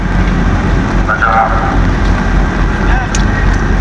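Heavy rain and strong wind in the Philippines, a steady loud broadband roar filling the whole stretch, with a person talking over it and a brief faint whistle-like tone partway through.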